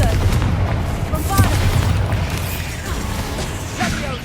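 Spell blasts and explosions from Bombarda and Confringo spells in the video game Hogwarts Legacy, a dense stream of booming hits and crackling impacts over a continuous low rumble, with a voice shouting incantations among them.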